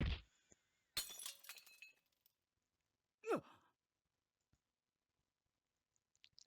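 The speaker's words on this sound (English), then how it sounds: "I heard the sound of shattering glass and the impact stopped." Glass shatters in the video game Chaos;Child, a sharp crash with scattered tinkling shards, followed after a pause by a heavy exhaled sigh and a few faint clicks in near silence.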